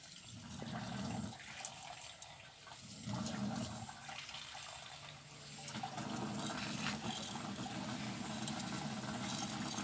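Water rushes and flows steadily through a flooded rice paddy, a continuous broadband hiss whose strength swells and dips over several seconds.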